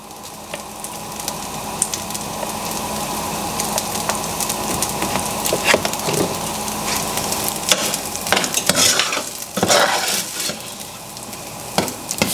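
Rice and mixed vegetables fry in a saucepan with a steady loud sizzle, broken by repeated scraping and tossing strokes of a spoon, growing busier toward the end, with no talking.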